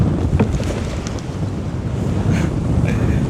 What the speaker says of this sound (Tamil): அலை ஒவ்வொன்றும் பெரிய பெரிய அலையாக வருதுங்க